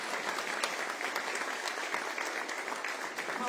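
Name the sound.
congregation applause in church service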